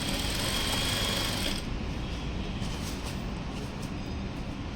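A sewing machine stitches the fall onto a saree with a rapid, steady mechanical whir close by; the pitch drops slightly partway through, no speech.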